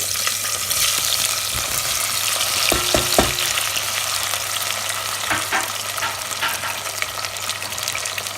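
Garlic and chopped vegetables fry in hot oil with a dense, steady sizzle, broken by a few clacks and scrapes of stirring, close up with no talking.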